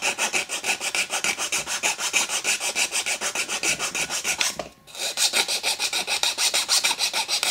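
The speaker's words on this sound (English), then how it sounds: "I'm just filing off all these edges now, getting them flat and removing any of the furred up hard" A metal file rasps across workpiece edges in a mill workshop, flattening them with regular back-and-forth strokes heard close and clear, pausing briefly mid-way before the rhythm resumes.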